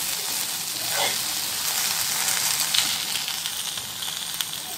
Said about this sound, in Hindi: सिर्फ मैं नमक डाली और हरी मिर्च के साथ इसको फ्राई करी